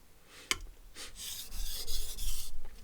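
A nakiri knife drawn across a sharpening stone in repeated rasping strokes, after a sharp initial tap, with the scraping growing louder and more sustained toward the end, no talking.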